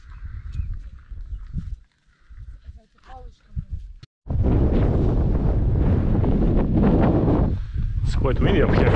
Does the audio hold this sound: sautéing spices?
no